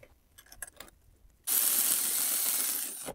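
A ratchet turns an alternator bracket bolt on a BMW N43 engine, a close, steady burst of fast clicking lasting under two seconds after faint handling sounds.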